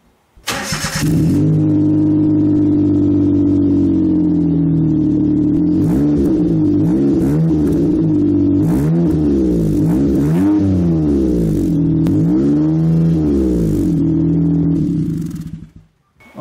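A car fitted with a motorcycle muffler and inner baffle starts with a loud burst, then idles with a deep exhaust rumble and is revved repeatedly in rising and falling surges before cutting off.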